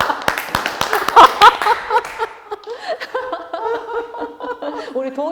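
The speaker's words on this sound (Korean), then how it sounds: "우리 동의의 박수인가?" An audience at a Korean arts and humanities talk gives a short round of clapping with chuckles, then the clapping fades and a voice continues alone.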